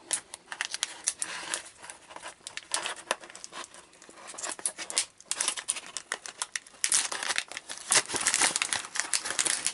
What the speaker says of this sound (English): Tear it off and then you have the ziplock closure